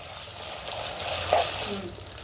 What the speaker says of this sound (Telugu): ఇప్పుడు ఈ అల్లం వెల్లుల్లి పేస్ట్ని పచ్చివాసన పోయేంత వరకు ఫ్రై చేసుకుందాం